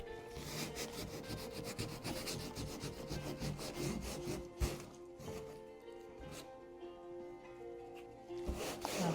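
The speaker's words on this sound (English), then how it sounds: "I'm just rubbing the rest of the masking fluid off." A finger rubs dried masking fluid off an acrylic tree painting, producing close, quiet, rhythmic scratchy strokes.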